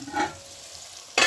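Chicken being stir-fried in a pot for a Jamaican country-style curry: a short soft stirring scrape, a quiet sizzle underneath, and a sudden louder burst of sizzling and scraping near the end.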